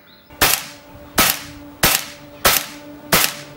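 An air rifle fires Zan 30.5 grain slugs in five sharp, loud shots, evenly spaced about two-thirds of a second apart, each with a short decaying tail and no other sound between them.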